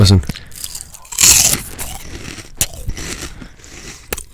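Crunchy ASMR eating sounds play back from a device, with close bites and chewing crunches heard in bursts while people talk over them.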